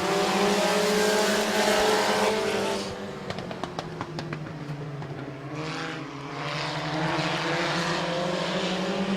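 Race cars roaring past at a Midvale Speedway green-flag start, a loud sustained engine drone with sharp passing bursts mid-clip, then settling into a steady rumble as the field gets underway.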